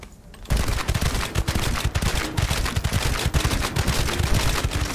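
Rapid gunfire in the sci-fi shooter The First Descendant, loud and close, bursts of shots in a fast, dense rhythm after a quiet first half second.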